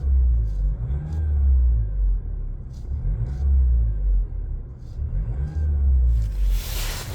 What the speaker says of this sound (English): I'm going to start the vehicle. So she starts up